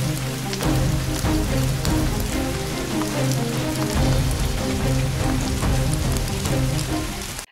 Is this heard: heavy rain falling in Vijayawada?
yes